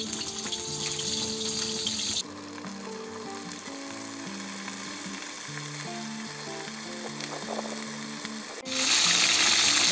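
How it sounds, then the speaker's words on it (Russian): Oil crackles and sizzles steadily as chicken pieces fry skin-side down in a cauldron over a campfire, with occasional clinks and stirring noises; no one speaks. "Курочку обжариваем с обеих сторон до готовности."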